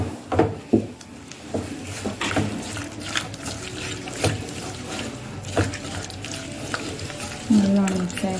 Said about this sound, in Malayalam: മല്ലിപ്പൊടി, മുളക് പൊടി എല്ലാം ചേർത്ത് കുറച്ച് പുളിവെള്ളം കൂടി ഒഴിച്ചിട്ട് നമുക്കിത് മിക്സാക്കി എടുക്കാം.